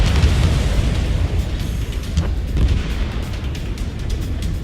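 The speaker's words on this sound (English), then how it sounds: "Spare 15, launching missile." Missile launch and blast in the Ace Combat 7 jet combat game, heard as a loud, continuous low rumbling roar with repeated booming swells and no talk.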